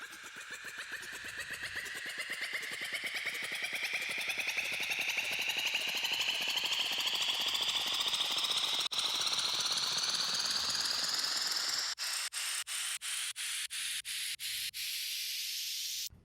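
Synth riser processed with a frequency shifter, reverb, auto pan and a limiter, a dense, noisy sweep climbing steadily for about twelve seconds, then breaking into rhythmic stuttering pulses at the top before cutting off.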